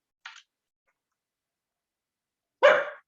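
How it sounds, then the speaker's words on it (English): A dog barks twice: a short faint yip, a pause of silence, then one louder, fuller bark nearby. "Come on, no barking."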